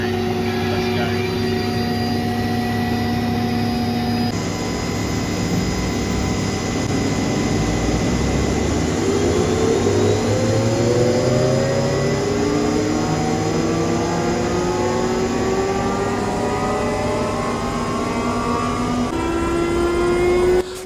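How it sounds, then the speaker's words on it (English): Twin turbine engines of a Westland Lynx helicopter spool up for takeoff near Bath, a loud steady roar with rising whine tones climbing in pitch throughout, continuous and close. "So once again, both jet engines spooling up now, and it wasn't long until we were airborne."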